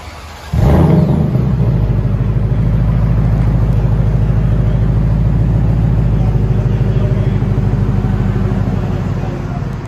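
A car exhaust fitted with an aftermarket H-pipe starts up and revs, then holds a loud, steady, deep rumble close by for the rest of the clip.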